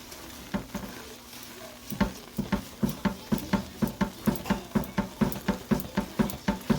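Soap mixture on the verge of bubbling over is stirred in a pot, a steady run of rhythmic scraping strokes, about two per second, close and clear with a faint bubbling bed beneath.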